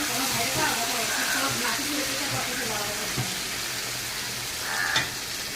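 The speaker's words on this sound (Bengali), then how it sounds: "আমি কড়াইতে কিছুটা তেল দিয়ে দিয়েছি, আমার তেলটা গরম হয়ে গেছে। এখন আমি মাছটা দিয়ে দেবো।" Raw fish slides into hot oil in a wok, setting off a loud, steady sizzle that crackles on throughout, with a voice talking faintly underneath.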